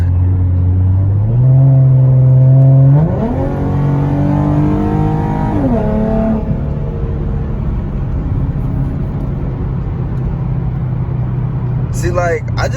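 A 2014 Mustang fitted with a Roush axleback exhaust revs up from a low idle rumble, climbing sharply in pitch and dropping back, then settling into a steady loud drone at close range.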